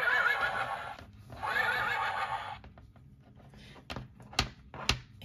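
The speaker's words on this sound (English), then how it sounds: "He makes that really fun clip-clop sound and whinnies" Pixar toy horse from a thrift haul whinnying twice in electronic bursts, followed by a string of sharp clip-clop hoof clicks from its speaker, close and fairly loud.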